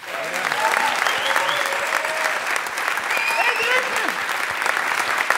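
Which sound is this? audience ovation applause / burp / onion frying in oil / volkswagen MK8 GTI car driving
audience ovation applause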